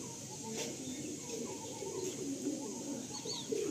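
Pigeons cooing at a bird sale in Ranihati, soft low repeated coos from several birds over a steady background hum, close and continuous with a faint chirp near the end.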